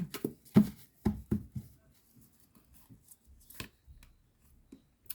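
Several quick papery snaps and flicks of tarot cards being shuffled close by, in uneven bursts, then softer scattered taps in a quiet room.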